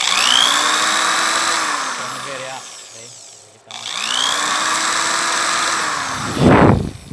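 An electric drill powered by a 12-volt DC to 220-volt AC solar setup whirs at high speed, spins down briefly to near silence, then starts again and runs steadily, with a short louder burst near the end.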